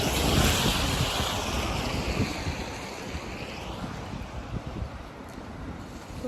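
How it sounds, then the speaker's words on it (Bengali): Strong wind roars and gusts in a continuous rushing wash during rain in the UK, buffeting the microphone, with a steady hiss of falling rain mixed in. "বৃষ্টি পড়তেছে আর অনেক বাতাস"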